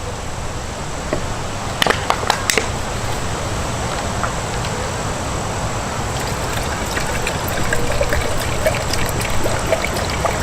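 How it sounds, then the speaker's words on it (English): Water is poured into a pot on a backpacking stove, a continuous trickling pour with a few metallic clinks of the pot, fairly close and steady throughout. "So I'm going to add 2 cups of water to this."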